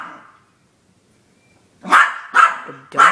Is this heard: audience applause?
no